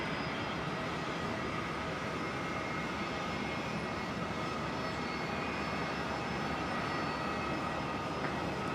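A Qantas airliner approaches to land on runway 19 left at Brisbane Airport, a steady broadband engine roar at moderate distance, continuous and unbroken with no talk.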